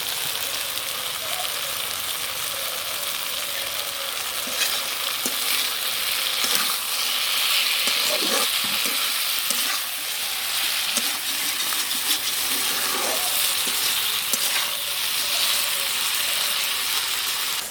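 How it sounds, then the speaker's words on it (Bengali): Eggplant fries with neem leaves in a wok, a steady crackling sizzle running throughout with occasional louder scraping stirs, close and fairly loud, with no talking. "বেগুনটা ভালো করে ভেজে তারপরে নিম পাতাগুলি দেবো"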